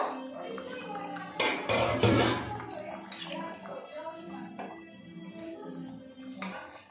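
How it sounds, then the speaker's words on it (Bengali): A lid comes off a pot of mankochu and lailontika fish curry with a short metallic clatter and scrape in the middle of the clip. Quiet kitchen noise surrounds it before and after. "ঢাকনাটা তুলে নেব।"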